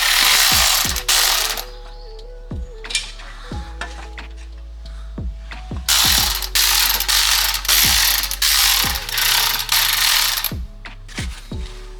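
A ratchet clicks rapidly in bursts while loosening the bolts of a 10-bolt rear differential cover on a 1998-2002 Camaro, close and loud, separated by clinks and knocks of metal parts.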